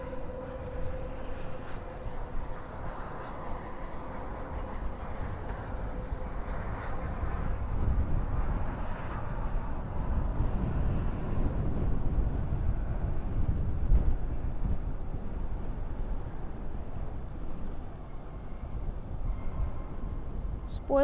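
American Eagle ERJ 145LR jet landing at night at Dallas/Fort Worth airport, a broad, distant rumbling roar that swells and slowly fades as spoilers rise and thrust reversers deploy, with wind buffeting and faint talk.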